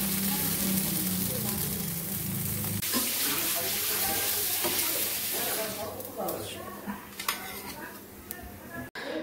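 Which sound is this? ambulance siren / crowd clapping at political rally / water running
water running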